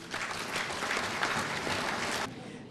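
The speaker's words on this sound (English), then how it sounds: "I think we need to clap for you." Banquet audience at a Lions Club of Kenya dinner breaks into steady, full applause that carries on for about two seconds and then stops abruptly.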